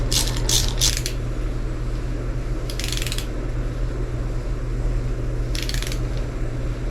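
Short bursts of ratchet clicking in a few quick spurts with an 11/16 socket on Pontiac engine motor mount bolts, with pauses between, over a steady low background hum.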